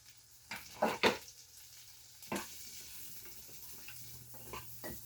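Asparagus and pasta cook together in a pan with a soft, low sizzle, broken by a few quiet scrapes and stirs close by.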